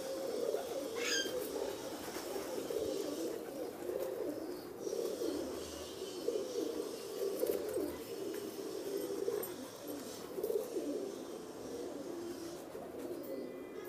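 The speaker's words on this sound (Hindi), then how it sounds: "ये भी एक सलारा कबूतर है" A Salara pigeon coos in soft, repeated throaty phrases, fairly close but quiet, with brief bird chirps early on and low background noise between calls.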